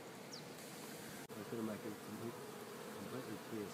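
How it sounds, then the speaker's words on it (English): Honey bees buzz densely and continuously inside a hive, a close, low droning hum with a single brief click partway through. "Bees are chilled in there."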